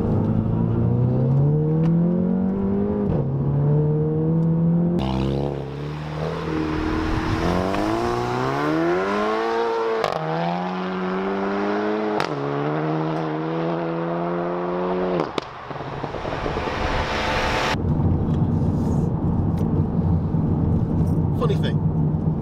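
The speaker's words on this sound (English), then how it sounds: "Funny thing, with the traction control on, this car picks up speed like you would not believe." A VW Golf GTI with an APR Stage 3 tune accelerates hard through several gear changes, the engine note climbing in repeated rising sweeps, loud and close, with a voice talking over it.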